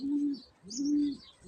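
A returning pigeon coos twice in low, steady phrases, each note swelling and fading with a short pause between, close to the listener with faint chirps above.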